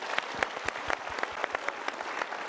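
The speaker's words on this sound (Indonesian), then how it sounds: "Boleh berikan tepuk tangan sekali lagi?" Studio audience applause, a moderate, fairly faint patter of many hands clapping at a steady pace, with individual claps standing out now and then.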